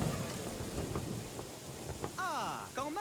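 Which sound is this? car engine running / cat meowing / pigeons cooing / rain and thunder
rain and thunder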